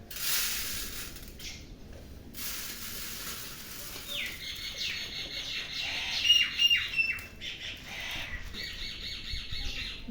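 Birds squawking and chattering nearby in short repeated bursts while eating rice from a plate, with rustling and a faint hiss in the background, no voices.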